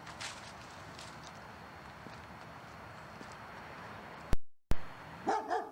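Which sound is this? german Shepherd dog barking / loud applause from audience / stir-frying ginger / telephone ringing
german Shepherd dog barking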